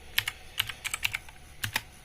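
Keystrokes on a computer keyboard typed in short irregular bursts, a handful of crisp close clicks clustered in pairs and triples with brief pauses, no voices.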